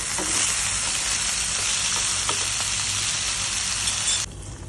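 Katla fish heads sizzle steadily in hot oil in a pan, a dense continuous frying hiss with a few faint clinks of turning, cutting off sharply near the end.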